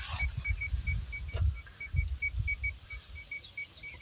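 A water-detecting machine for finding a borewell point on farmland beeps in a steady, regular series of short, thin electronic tones throughout, with low rumbling and handling noise underneath and no talking.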